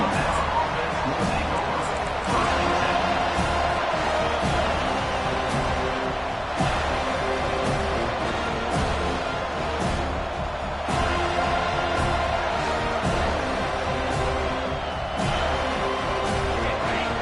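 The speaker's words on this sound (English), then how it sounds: "Listen to the crowd energy here in the early going." A large American football stadium crowd roars loudly and continuously, a dense wash of cheering and noise that never lets up.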